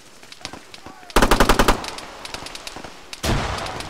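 Gunfire in the ArmA 3 video game: a sharp, close burst of automatic rifle fire with evenly spaced shots, then a heavier blast, over scattered distant shots, with a voice faintly in the background.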